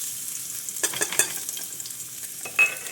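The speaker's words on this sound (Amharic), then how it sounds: "ነጭ ሽንኩርት አስገባለሁ።" Garlic sizzling in a hot frying pan as it is stirred, a steady close crackle with a few sharper scrapes and clinks of the utensil, and no talking.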